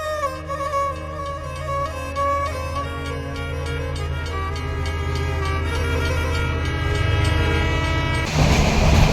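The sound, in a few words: train moving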